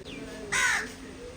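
A crow gives a single loud, harsh caw in the morning, nearby against a steady low hum of background noise.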